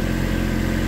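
A small Kubota tractor engine running steadily during rock hauling, a constant low rumble with no breaks, close and fairly loud, no voices over it.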